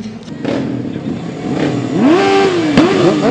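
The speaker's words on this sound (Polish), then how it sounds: "Na stałe w święto miasta wpisała się też parada motocykli." Motorcycle engines rev and rise in pitch at a town-day motorcycle parade in Chrzanów, loud and continuous, with swelling revs toward the end over a busy outdoor background.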